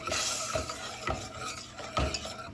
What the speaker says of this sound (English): You get our whisk out and whisk this in real good.